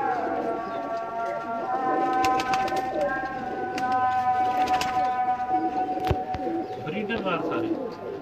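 Pigeons cooing in a loft, with repeated throaty coos and bird calls over a steady whistling tone and scattered clatter, as people talk nearby.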